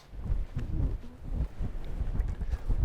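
Gusty wind buffets the microphone outdoors in an open landscape, low rumbling surges rising and falling in uneven bursts over a few seconds.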